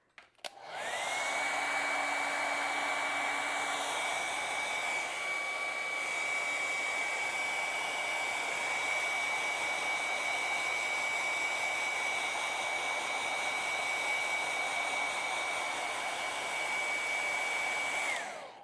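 A hair dryer blows steadily and loudly over a freshly painted acrylic autumn forest landscape, with a constant whining hum that holds unbroken for nearly the whole stretch before cutting off at the end.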